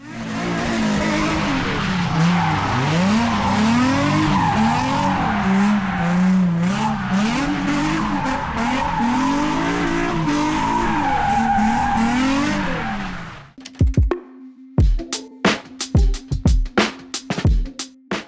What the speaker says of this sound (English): We're at the skid pad right now, and for no reason at all, I just want to do a few laps.